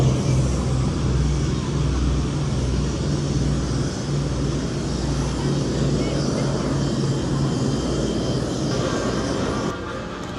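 A Douglas A-26 Invader twin-engine medium bomber roars through its takeoff roll, a loud, steady engine drone with a strong low throbbing hum that holds constant throughout, close and continuous.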